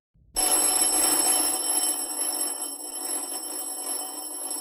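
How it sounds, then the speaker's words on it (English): Insistent electric doorbell ringing at a house in Aberdeen at night, a continuous shrill bell that starts abruptly and keeps sounding steadily and loudly with no break, with no voices. "a man is aroused from his bed by an insistent ringing at his doorbell."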